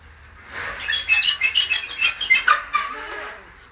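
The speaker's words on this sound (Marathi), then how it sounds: "तुम्ही बॅकग्राऊंडला ऐकू शकता पक्ष्यांचा किलबिलाट चालू" A burst of busy morning bird chirping near a village cattle shed, bright and fairly close, rising for a few seconds of rapid, repeated tweets before fading.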